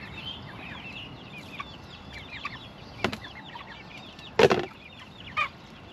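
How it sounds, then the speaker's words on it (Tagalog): Backyard chickens cluck softly in scattered short calls over a quiet outdoor hum, with a few louder sudden bursts near the end. "Muna tayo sa manok natin."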